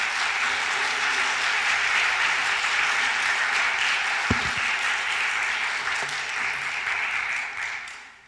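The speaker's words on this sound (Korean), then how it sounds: "유 의원님을 앞으로 모실 때 크게 박수로 맞이해 주시길 바랍니다" A lecture-hall audience gives sustained, even applause for an arriving speaker, the clapping holding steady for several seconds before fading out at the end.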